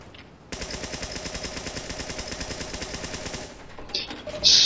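The Medic's needle gun from Team Fortress 2 firing in a rapid, even burst of closely spaced shots lasting about three seconds, loud and near, followed by a sharp high effect.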